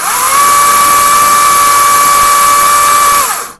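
A WILD BADGER 40V electric chainsaw with a 14-inch bar runs at a steady, loud, high-pitched motor whine for about three seconds, then spins down at the end.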